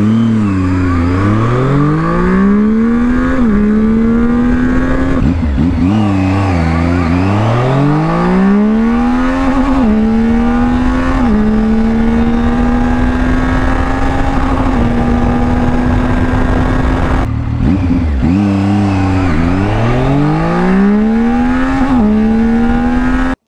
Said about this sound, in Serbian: a kad god sam povukao gas, imao sam i više nego dovoljno ubrzanja